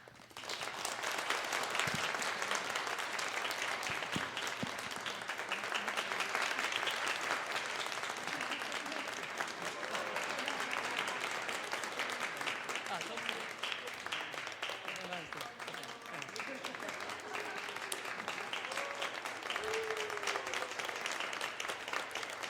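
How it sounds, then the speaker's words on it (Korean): Sustained applause from a church congregation at a Sunday worship service in Korea, after new-member Bible course certificates are handed out. Dense, steady clapping fills the room throughout, with scattered voices mixed in. "다시 한 번 더 큰 박수 부탁드리겠습니다."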